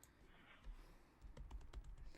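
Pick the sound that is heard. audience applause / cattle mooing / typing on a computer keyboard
typing on a computer keyboard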